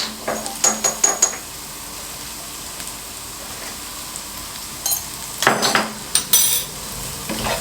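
Carrot, beans, cabbage and chilli frying in a pan, with intermittent scraping and stirring clatters in short bursts over a steady low sizzle.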